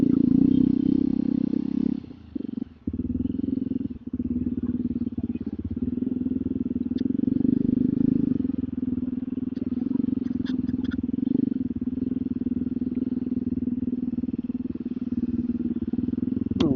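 Motorcycle engine running steadily close by with a low, throbbing drone that briefly drops out around the clutch being worked, then holds a constant idle-like rumble with small clatters and no talk.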